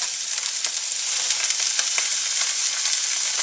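Stem cabbage fried in a pan for a Tibetan meat and cabbage dish, a bright, continuous sizzle crackling with small popping bursts, close and steady, with no voices.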